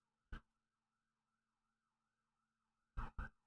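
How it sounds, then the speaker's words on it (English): An ambulance siren passes by outside, a faint wail rising and falling steadily in the background, broken by a few loud, sharp knocks close by. "It's an ambulance driving by, sorry."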